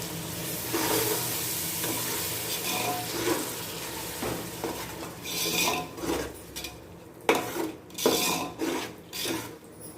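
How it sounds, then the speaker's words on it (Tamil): Tomatoes with mint being sautéed in a pan for tomato rice, with scraping and clinking of a metal spatula against the pan and soft frying noise, getting busier and louder toward the end, no voices. "தக்காளி சேர்த்து கொஞ்சம் நல்லா வதக்கி விடணும்."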